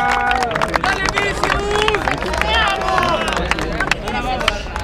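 A crowd claps and cheers loudly at a freestyle rap battle in Chile, a steady dense roar of applause with shouts and voices mixed in throughout.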